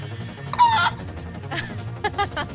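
A few short, sharp chicken clucks and squawks in quick succession from the Roblox game Chicken, fairly loud against a low steady background hum.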